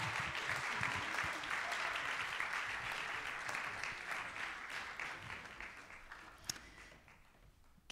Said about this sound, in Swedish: En applåd för dem!